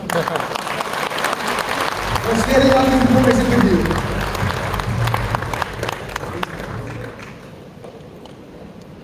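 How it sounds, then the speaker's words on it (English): Audience applause at a luxury product unveiling event, a swell of clapping that builds around the middle and then fades, with someone speaking over it throughout. "Now a big round of applause for me."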